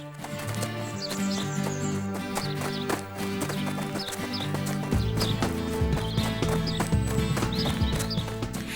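A horse running in a children's bedtime story about the gingerbread man, a steady clip-clop of hooves with an occasional whinny, mixed under continuous music throughout.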